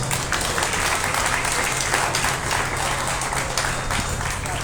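Crowd applause at a beef cattle show honoring a class winner, a steady, even clapping texture over a low hum throughout.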